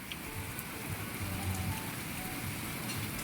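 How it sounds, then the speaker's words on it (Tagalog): Heavy rain pours steadily, a dense continuous hiss with close drops pattering on a surface, no voices. "Lakas ng ulan no."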